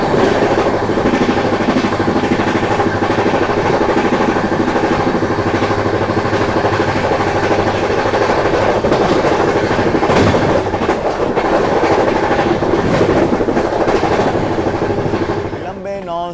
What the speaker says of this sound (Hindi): नॉन स्टॉप रन के बाद फाइनली अपनी दुरंतो एक्सप्रेस पहुंच रही है अपने पहले हॉल्ट यानी कि झांसी स्टेशन पे